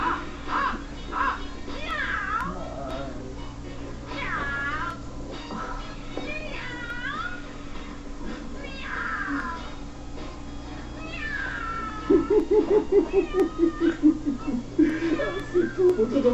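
Repeated drawn-out cat meows and yowls rise and fall among voices and background noise, followed by a quicker series of short, rhythmic meowing cries near the end.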